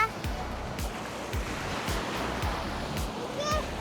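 Sea waves wash up on an evening beach in a steady roaring surf wash, with repeated low rumbling surges and a short whistle-like sound near the end.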